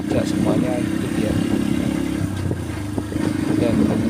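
Motorcycle engine fitted with a loud aftermarket brong exhaust, running steadily and close by with a rough low drone throughout, while speech runs over it.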